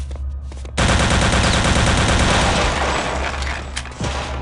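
Rapid automatic gunfire from Return to Castle Wolfenstein bursts out loud and dense after a brief quieter lead-in, sustaining a relentless clattering stream with heavy low booms and no talk.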